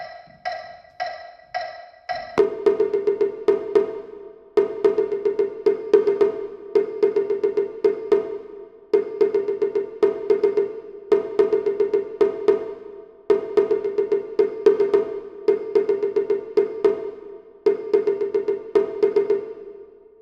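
A taiko drum beats a steady, driving rhythm in repeating phrases, preceded by a few light ticking counts, dense strokes rolling on for many bars.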